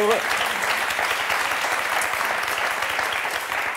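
A studio audience on the French word game show Motus claps loudly and continuously for contestants, a thick, steady roar of applause with faint voices mixed in underneath.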